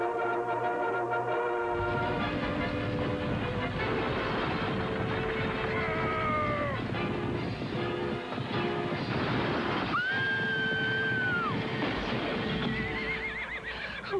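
Horses neighing and whinnying loudly amid galloping hoofbeats and crashing commotion, a dense dramatic scene from a 1992 television commercial parodying the Lone Ranger, with no voices heard.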